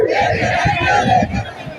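A crowd at a Sengel political rally in Jharkhand shouts slogans in unison, a loud, rough burst of massed voices with a rhythmic pulse that stays close and fills the short moment before tapering off.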